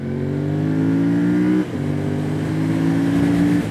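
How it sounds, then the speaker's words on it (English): A Fantic Caballero 700 scrambler motorcycle engine revs hard toward 8,000 RPM, climbing steadily in pitch, drops briefly as if shifting, then winds up high again, loud and close. "it will go on to rev up to 8 or so thousand RPM"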